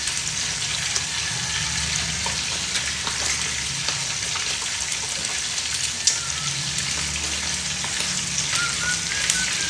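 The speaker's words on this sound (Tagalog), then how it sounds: "Nagpiprito po ako ng ano. Keme. Ng pork chop." A pork chop fries in a pan with a steady, dense sizzle and scattered small crackles and pops throughout, close up and with no talking.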